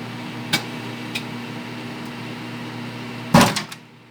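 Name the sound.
eggs popping inside a running microwave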